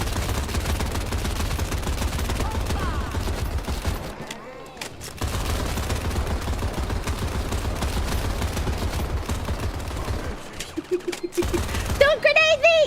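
Rapid P90 automatic gunfire in a video game, dense continuous loud bursts with brief pauses, under excited talking.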